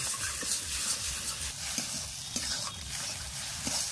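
Ground spinach paste with prawns and spices cooks down in a pan for palak chingri, heard as a soft, steady sizzle broken by regular spatula scrapes and stirring taps, with no one talking.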